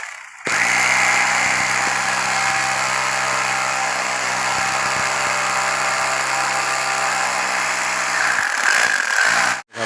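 A power drill bores into steel while a canteen roof frame is being built, running as a loud, steady whine for about eight seconds before winding down abruptly, with no talking over it.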